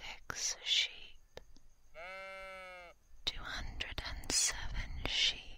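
A single sheep bleat, a clear wavering baa lasting about a second, sits amid close binaural whispering for sleep relaxation.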